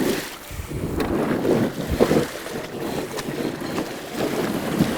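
CityCoco Connect 2 all-wheel-drive electric scooter pushing through deep water, a continuous close rush of splashing and churning water mixed with wind noise, with no clear speech.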